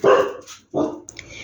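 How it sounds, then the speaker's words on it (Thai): A dog barks indoors at home, two loud close barks separated by a short pause, followed by a brief higher yip or whimper. "แล้วน้องหมามันเห่า"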